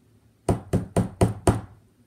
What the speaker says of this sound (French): Un matin, Nif Nif entendit frapper sur sa porte en paille.